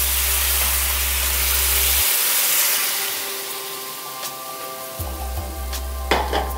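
Water and chicken stock mix poured into a hot pan sizzles and hisses steadily, fading slightly as the liquid settles, with light stirring clatter near the end.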